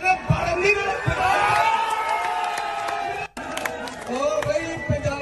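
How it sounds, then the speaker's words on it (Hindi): A crowd of Punjabis at a political rally claps and cheers in loud bursts, mixed with whoops and shouting, with a short break before the noise picks up again. "तो पंजाबी बहुत ताली ठोंक रही थी"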